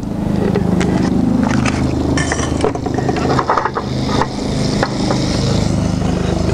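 Butter and a touch of chili oil sizzle in a frying pan, a steady close hiss running throughout, with clinks of a utensil against the pan on top.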